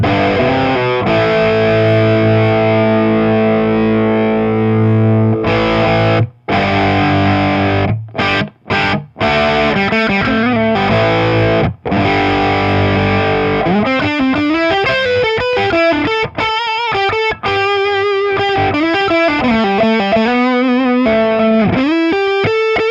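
An electric guitar played through a mini amp head with a hard, juiced plexi-style crunchy distortion: sustained ringing chords broken by brief stops, then fast sliding lead lines and quick riffing, loud and up front without talk.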